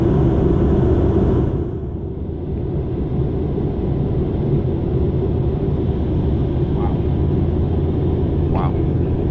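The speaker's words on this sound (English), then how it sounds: "We are now landing." A continuous deep rumble fills an airplane cabin as the plane comes in to land, loud and steady throughout, with faint brief tones near the end.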